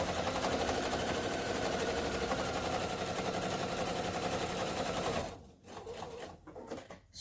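A Pfaff sewing machine running at a steady, fast, even chatter, close and loud, then cutting out and leaving a few softer mechanical clicks and handling sounds.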